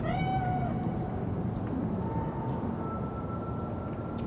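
Cat spirit meowing in Cyberpunk 2077: a drawn-out, falling meow opening the moment, followed by a fainter high mewing tone trailing over a steady game ambience, with no talking.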